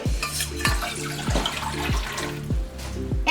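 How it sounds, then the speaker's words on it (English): Water from a tap running into a pot on a stovetop set to high heat, a steady continuous flow with some clinking, close and fairly loud with no talking. "I'm going to add 4 cups of water"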